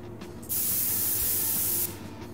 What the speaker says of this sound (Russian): Ты должен использовать спрей